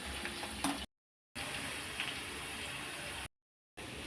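Okra pieces sizzle gently in a pan with salt and chilli, a soft, steady frying hiss broken by two short silent gaps, faint and close.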